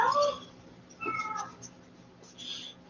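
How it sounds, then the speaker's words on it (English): A house cat meows in the background of a home kitchen during cooking: two or three fairly faint, drawn-out meows spread across a few seconds, with a quiet pause between them. "And I don't know if you can hear in the background, that's one of my cats."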